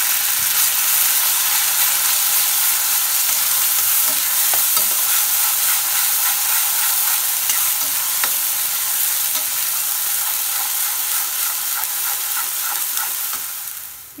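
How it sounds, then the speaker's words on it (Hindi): Ground onion and garlic paste fries in hot mustard oil for bitter gourd stuffing, giving a steady, close sizzle with occasional stirring scrapes throughout and no voices. "आब एहिमे जे प्याज लहसुन पीस लेने छियै से पहिले खसा देबै और एकरा खूब लाल कऽ कऽ"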